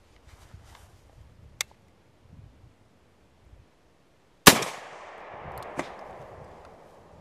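A single loud shotgun blast fired with a Mirage 36-gram cartridge outdoors, a sharp crack that rolls off in a long echoing tail, after a few faint rustles and a small click beforehand.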